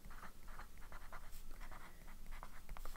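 A Monteverde fountain pen with a zoom nib scratching on paper while drawing an elephant, close, soft, irregular strokes and scrapes continuing throughout, faint and dry, with no talking.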